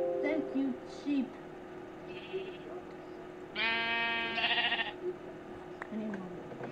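Sheep bleating in the Minecraft video game, a few short harmonic bleats near the middle of the clip, moderately loud, with a player talking quietly around them.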